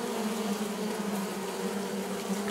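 Bees drone steadily inside a top bar beehive in Manchester, a close, continuous buzzing hum that holds even and unbroken throughout.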